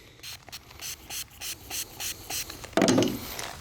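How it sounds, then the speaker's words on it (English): About nine short, quick hissing sprays from a spray bottle of car detailing product on a Mitsubishi 3000GT VR4 in a steady rhythm, followed by a louder, longer spray burst, close by. "Let's go ahead and spray a little bit more."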